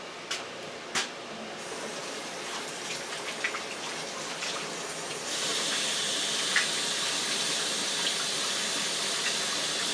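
Kitchen tap water runs while hands are washed before rolling out a gluten-free pie crust, a steady close hiss that grows louder and fuller partway through after a few small knocks, with no talking.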